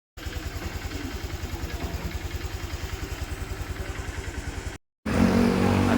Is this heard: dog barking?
no